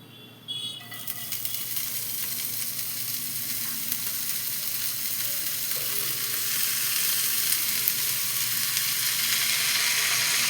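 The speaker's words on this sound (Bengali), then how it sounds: "এবার তেলটা গরম হয়েছে, এবার তেলের মধ্যে আমি শাক দিয়ে দিচ্ছি।" Red amaranth greens hit hot oil with a sudden burst, then settle into a loud, steady, even sizzle that swells slightly over time.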